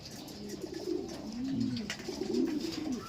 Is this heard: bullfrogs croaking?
no